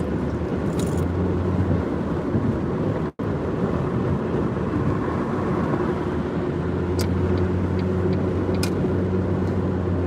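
Car cruising along a parkway, steady road and wind rumble from inside the cabin, continuous and fairly loud, with a brief dropout of sound partway and a few faint clicks later.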